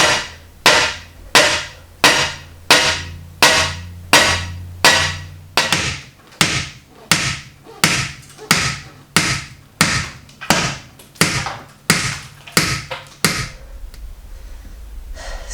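Rebar hammered down through a log into a floor slab, a long run of about twenty evenly spaced, loud metallic strikes, each ringing briefly before the next, ending with a quieter low rumble.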